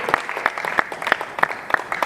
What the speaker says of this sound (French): Faites un maximum d'applaudissements pour Welfare Kaya